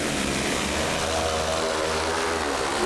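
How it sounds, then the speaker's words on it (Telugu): An agricultural drone lifts off on its dual-remote setup, its propellers producing a loud, steady, close-up roar with a droning hum underneath that fills the whole moment without pause. "డ్రోన్ టేక్ ఆఫ్ అయ్యేంత వరకు నొక్కి పెట్టండి"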